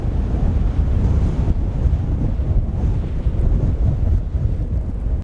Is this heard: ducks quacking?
no